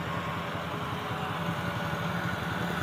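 A tractor engine idles close by, a steady low rhythmic chugging that holds even throughout with no voices.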